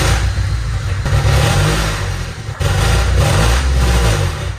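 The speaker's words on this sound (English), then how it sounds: "Here's a clip of the exhaust with a hole in it." A 1997 Honda Civic EX coupe engine revs loudly through an exhaust with a hole, a raspy, blatting roar that rises and falls with a brief dip midway, close and continuous.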